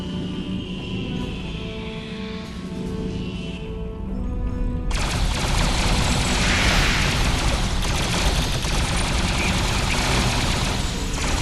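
Dense, continuous weapons fire and booming blasts from a Star Trek Online space battle erupt suddenly after a few seconds of quieter hum and tones, then roar on loud and unbroken to the end.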